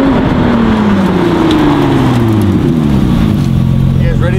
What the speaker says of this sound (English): This is the new Ford GT going into race mode.